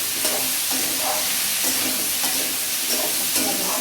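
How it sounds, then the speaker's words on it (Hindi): Raw papaya sabzi with chana dal frying in a pan, a dense continuous sizzle and hiss with a soft rhythmic scrape of stirring every half second or so, close and steady. "ये देखिए सब्जी हमारी 2-3 मिनट तक भूजा है"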